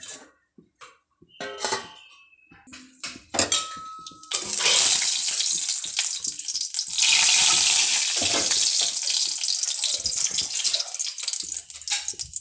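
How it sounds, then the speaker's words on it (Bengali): Oil heating in a freshly washed wok: a few clanks and knocks first, then a loud, sustained crackling sizzle that continues to the end. "এখন কড়াইতে তেল দিয়ে দেবো"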